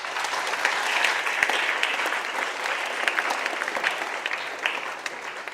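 Children at a school moral education session receive warm applause, a dense, steady burst of clapping from a roomful of people that lasts several seconds and fades slightly at the end.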